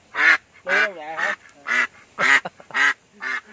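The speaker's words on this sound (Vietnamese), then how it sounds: "Có nuôi vịt nữa cha." Ducks on a rural homestead give repeated nasal quacks or honks in a steady series of about seven calls, loud and close, with no talk over them.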